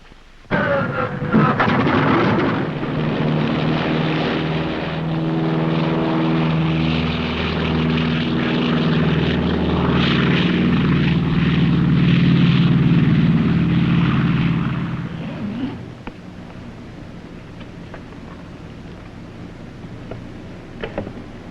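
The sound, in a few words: propeller airliner cabin during takeoff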